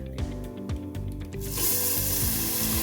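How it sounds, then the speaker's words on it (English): Milk poured into a pan of butter-fried vermicelli for sawaiyan, starting with clinking and scraping in the hot pan, then breaking into a loud, bright hiss of sizzling that lasts through the final second and a half. "Now we're gonna add half a liter of milk."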